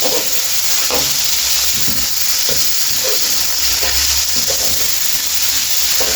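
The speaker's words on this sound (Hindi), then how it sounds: "इसका जितनी देर रंग तब्दील नहीं होगा ना उतनी देर हम इसको फ्राई करेंगे" Chicken frying in a pan, a loud steady sizzle and hiss throughout with occasional scraping stirs, close and with no speech.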